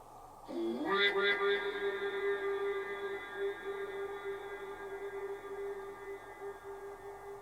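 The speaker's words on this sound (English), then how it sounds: "That was the longest echo." A long, ringing tone in the Hinsdale House sustains and trails off with heavy echo and reverberation, starting with a sharp onset and holding steady for several seconds in an otherwise quiet room.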